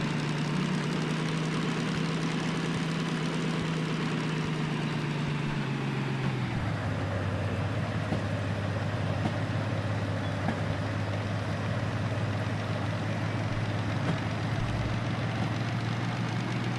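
Diesel locomotive engine in the Derail Valley train game laboring up a mountain grade, a steady low drone that drops in pitch partway through, then holds a constant heavy idle-like rumble throughout with no talking.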